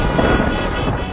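Steady rain with a deep thunder rumble running through it, loud and continuous over about a second, with no voices.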